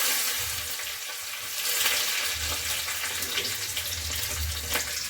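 Curry leaves sizzle and crackle in hot oil for a tadka with cumin and chilies. The frying hiss is steady and close, with occasional sputtering pops and low bubbling underneath.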